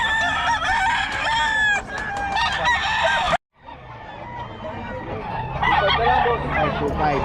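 A solid black Henny rooster crows loudly and close, with several repeated calls broken by a brief silent gap, other fowl clucking nearby and people talking in the background.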